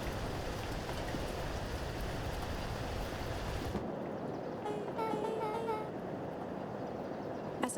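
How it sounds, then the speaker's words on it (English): A steady, heavy rain storm hisses as dense broadband noise for several seconds, then cuts off abruptly, leaving a quieter background with faint tonal chimes. "As abruptly as it began, the storm abated."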